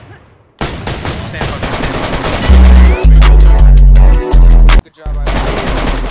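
Loud, close bursts of automatic gunfire from the DayZ video game fire in rapid, rattling strings, broken by brief gaps. Someone speaks briefly over the shooting.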